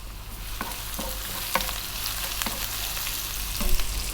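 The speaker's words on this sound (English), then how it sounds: "We're going to start off by dropping in our garlic and the ginger." Garlic and ginger frying in hot oil over high heat, a steady close sizzle with a few sharp spatula taps and stirring clicks scattered through.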